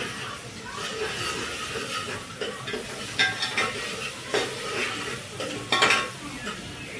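Ginger garlic paste frying in a pan, a moderate sizzle broken by metal spoon scrapes and clinks against the pan as it is stirred.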